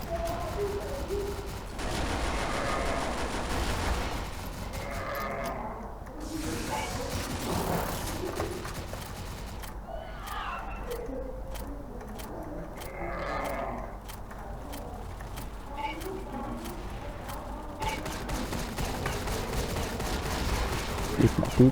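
Shotgun fire rings out in the online shooter CrossFire, a loud dense battle mix with bursts of repeated shots and gaps between volleys, plus faint voices in the background.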